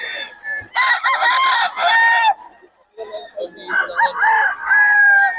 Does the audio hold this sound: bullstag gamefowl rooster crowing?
yes